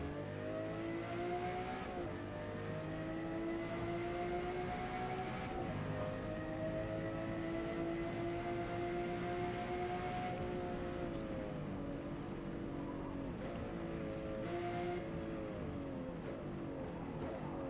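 Race car engine in Forza Motorsport during a mid-engine car race, a loud steady drone with rising and falling pitch as the car shifts through gears, continuous and close with no talk.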